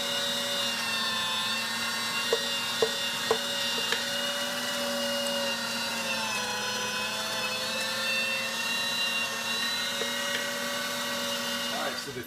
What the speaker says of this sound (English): So the first grind went through.